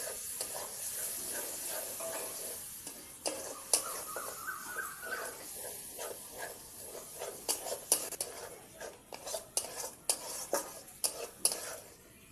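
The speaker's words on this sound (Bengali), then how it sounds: "মশলাটাকে ভালো করে কষবো।" Spice paste being sautéed and stirred in a pan for a Bengali home-cooked meal, soft steady sizzling under repeated scraping and clinking of a spatula against the pan, growing more frequent toward the end.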